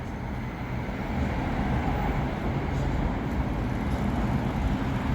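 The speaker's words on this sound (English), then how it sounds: "The tram on platform 2 is to Wolverhampton St George's." A tram at Edgbaston Village stop gives off a steady low rumble and hum close by, holding a constant level throughout with no voices heard.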